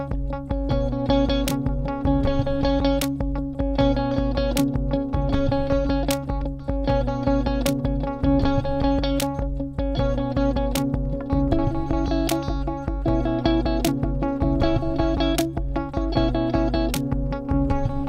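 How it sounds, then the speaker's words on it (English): An electric guitar strums in a steady, even rhythm with heavy effects, four ringing open chords followed by four tighter, palm-muted strums, loud and close throughout. "Do 4 not palm muted and then 4 palm muted."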